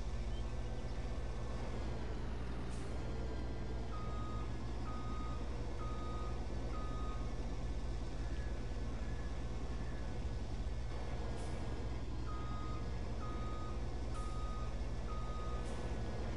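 A truck reverses in Farming Simulator 22, its backup alarm beeping in two evenly paced runs over a constant low engine drone, with faint talk underneath.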